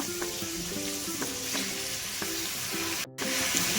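Ivy gourd and tomato fry in a covered pan on low heat, a steady close sizzle with a few spoon scrapes and a brief cut near the end.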